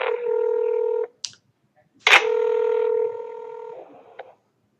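Two long, steady telephone keypad DTMF tones ring out loud and close as a phone number is keyed in. A brief click and silence separate them, and a fainter tone blip closes the sequence.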